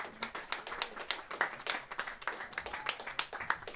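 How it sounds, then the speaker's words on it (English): Spectators at a first grade rugby league match clap as a player leaves the field, a thin, scattered patter of hands from a small crowd, fairly faint and distant with little talk. "He gets a round of applause."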